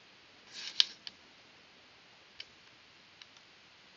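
Cardstock being cut, a short swishing slice followed by a few sparse, faint clicks and ticks in a quiet room.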